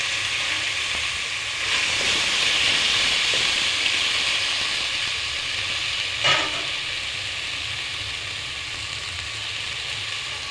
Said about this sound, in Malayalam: അപ്പോൾ ഇതിലോട്ട് ചക്ക കട്ട് ചെയ്തത് ഇട്ട് കൊടുക്കാം